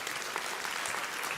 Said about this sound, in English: let's give Tyler a huge round of applause.